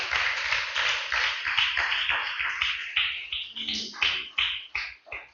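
A church congregation claps steadily at first. Toward the end the sound breaks into a few separate, louder claps before fading.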